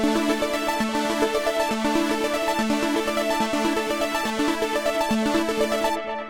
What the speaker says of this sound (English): the synthesizer is programmed to play those notes in a sequence